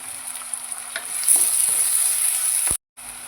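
Chopped tomato frying in a pan with onion, ginger and garlic for a soya chunk masala, a steady sizzle with stirring scrapes that grows a little louder, then cuts out briefly near the end.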